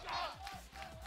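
Fans at a Tekken 7 grand final roar with a dense, loud wall of shouting and cheering, a battle-cry surge swelling and dipping over roughly one second.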